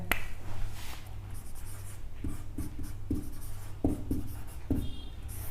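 Chalk or marker strokes on a classroom board during a Hindi grammar lesson, a short series of distinct scratchy taps and strokes over a low steady hum, with no talking.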